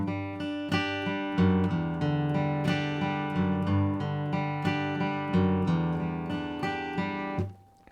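Acoustic guitar picking chord arpeggios for a song, with walking bass notes moving between chords, played steadily and close for about seven seconds before ringing out.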